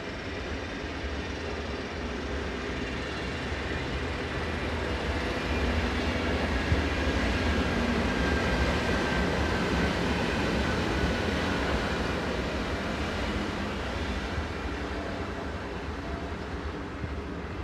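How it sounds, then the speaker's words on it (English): Swiss locomotive 11125 passes northbound with a rake of empty coaching stock, giving a steady, even rumble of wheels and rail clatter at moderate distance throughout, with no voices. "One 11125 passes by in the northbound direction with a rake of empty coaching stock"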